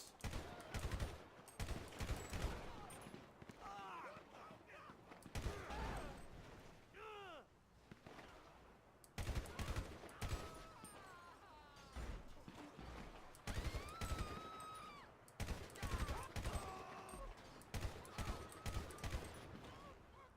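Bursts of rapid gunfire in Grand Theft Auto V crackle in clusters with short pauses between, loud and sharp, some volleys sounding like automatic weapons.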